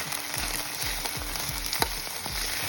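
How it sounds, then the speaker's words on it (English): Meat sizzles and fries in a hot skillet for a pasta dish, a steady crackling hiss with repeated low scraping thumps as pieces are stirred or moved, close and fairly loud with no talking. "This is the sound I love to hear, that sizzle."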